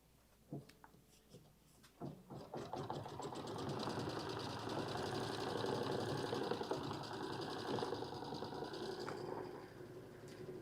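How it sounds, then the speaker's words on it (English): A Baby Lock Radiance embroidery sewing machine stitching a quilting design, a steady, close mechanical whir with rapid needle clatter after a few starting clicks and thumps, running continuously with no talk. "So let's just hit the button there, and we'll let it sew here."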